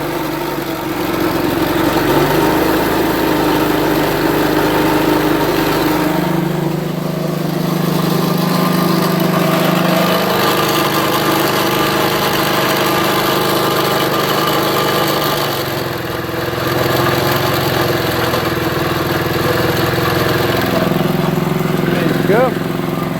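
An engine runs on wood gas from a homemade two-stage Viking biomass gasifier, a steady mid-pitched chugging drone that shifts in pitch and load several times, with people talking close by over it.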